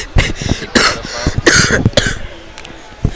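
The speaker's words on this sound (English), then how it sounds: "Now you got this guy coughing in." Several sharp, close coughs in quick bursts, with a throat-clearing sound among them and a short gap before a final cough, at a wrestling meet.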